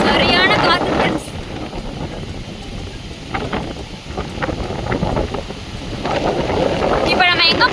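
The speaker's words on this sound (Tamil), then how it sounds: "சரியான காற்று ஃப்ரெண்ட்ஸ்." Strong gusting wind buffets the microphone on a hillside gap road in Kerala, a loud broad roar rising and falling throughout, with brief voices near the start and end.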